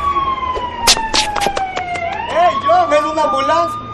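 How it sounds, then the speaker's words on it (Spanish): An ambulance siren sounds loud and close with a falling wail, then switches to a rapid warbling pattern, accompanied by sharp clicks and an excited voice. "¡Ven una ambulancia!"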